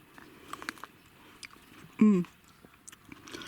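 Soft, wet chewing and crunching of a large, crunchy, fleshy grape close to the mic, with a brief voiced hum in the middle over faint background noise.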